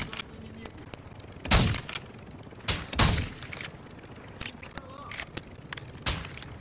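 Gunfire around the tower in Warzone 2.0 DMZ, distant-sounding shots and short volleys scattered over several seconds with a few louder bursts, while people talk throughout.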